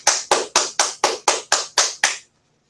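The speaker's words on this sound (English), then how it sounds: "I do want to give a round of applause to Corey LaJoie, the 23." Nine evenly spaced hand claps, crisp and close, in a steady slow rhythm before stopping into silence.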